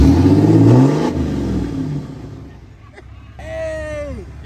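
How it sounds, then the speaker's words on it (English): A SEMA show truck's engine revs hard, loud and close at first, then its roar winds down and fades; people's voices come in near the end. "go rev it up"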